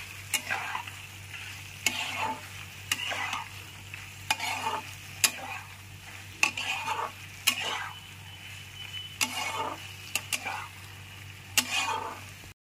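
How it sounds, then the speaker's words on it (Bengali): Boiled macaroni pasta being stirred in a pan, with repeated scraping stir strokes at an irregular rhythm over a soft steady sizzle, close up, with no talk. "পাস্তাগুলো খুব ভালো করে মিশিয়ে নিতে হবে।"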